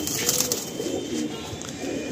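Pigeons coo steadily in a fancier's loft crowded with birds, a soft, continuous murmur of overlapping calls with no voices over it.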